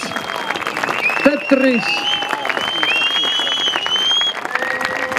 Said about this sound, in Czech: Tak to je potlesk pro skupinu Tetris.